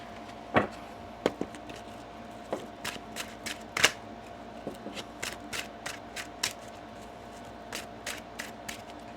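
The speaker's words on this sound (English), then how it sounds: "One more shuffle here." Tarot cards being shuffled in a steady series of crisp riffling snaps and flutters, close up and fairly quiet, with no talking.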